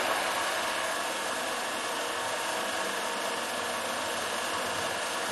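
A workshop drilling machine runs at a steady pitch, a continuous, even whir and hiss that holds without change throughout, fairly quiet, with no voices.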